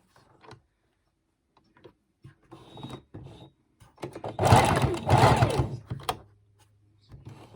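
A sewing machine stitching tulle underneath the skirt of a bridesmaid dress runs in one loud, steady burst of about two seconds, with quieter handling and stray clicks before and after.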